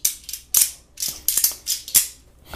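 Magnetic cube puzzle blocks with moving internal magnets, giving a series of sharp clacking and ratcheting clicks in irregular bursts, close and fairly loud, with no voices.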